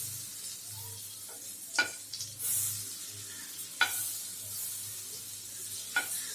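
Butter melting in a kadai over a low flame, a soft continuous sizzle with a few sharp metallic clinks of a utensil against the pan, close and quiet.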